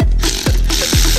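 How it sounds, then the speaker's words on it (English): Torque wrench ratcheting on excavator swing bearing bolts, three quick, close mechanical clicks in a steady rhythm over a continuous noisy background. "and then go around and torque all the bolts."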